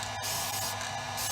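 A spray can hisses steadily as it lays down paint over rust reformer, making a continuous, close, even spray with only a brief break in the flow.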